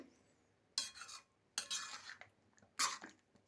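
Kasuri methi being stirred into palak paneer in a pan, heard as three distinct bursts of a spoon scraping and mixing at close range, with short quiet gaps between them.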